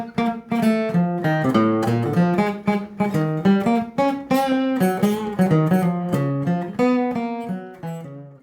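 Improvised arpeggios run steadily through a chain of secondary dominant chords on a melodic instrument, a continuous flow of rapid broken-chord notes, close and clear with no talking.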